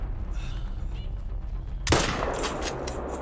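A single loud rifle shot from a .22 Hornet fired at ducks cracks sharply after a quiet stretch, followed by a lingering outdoor echo and rumble.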